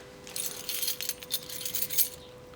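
Keys on a keyring that holds a small engine piston jangle and clink in a quick, bright metallic burst, close and fairly quiet, with no talking.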